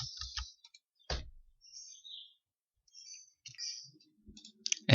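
Computer mouse clicking during a WooCommerce setup: several sharp, isolated clicks scattered over a quiet background, fairly close and faint, with small ticks between them.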